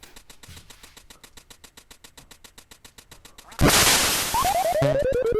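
A rapid, steady train of short quacks from the Duck Hunt VR game repeats for several seconds, then a sudden loud blast of noise breaks in, followed by a falling sequence of electronic tones.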